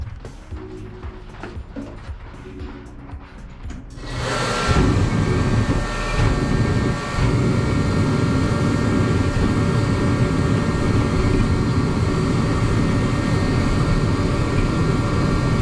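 A Reddy heater low on gas clicks and ratchets for a few seconds, then ignites into a loud, steady forced-air roar that continues, briefly sputtering once before settling.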